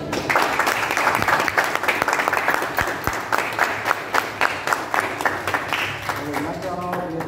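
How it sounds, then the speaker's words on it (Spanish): A gathering applauds a taekwondo coach at a medal ceremony for Puerto Plata's taekwondo team, with close, sharp individual claps standing out over a steady background of group clapping throughout. "quiero que demos un aplauso a él"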